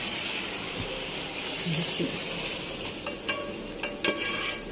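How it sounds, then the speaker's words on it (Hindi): Marinated chicken is stirred into sauce in a hot pan, giving a continuous close sizzle with spoon scrapes and a few sharp clinks against the pan toward the end. "इसको अच्छी तरह मिलाएंगे"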